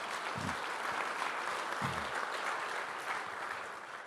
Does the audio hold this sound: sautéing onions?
no